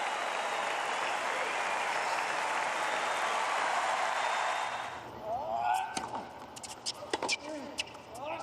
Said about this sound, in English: It's applauded by Wawrinka as well.